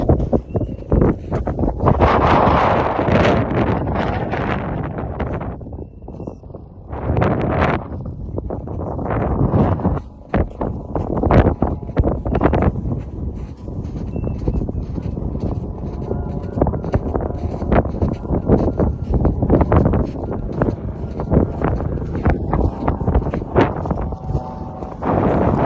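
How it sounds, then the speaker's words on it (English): Strong wind buffets the microphone on a snowy mountain along the Tateyama Kurobe Alpine Route, producing loud, uneven rumbling gusts throughout, with a person talking faintly underneath. "obviously the wind is so strong so you can barely hear me"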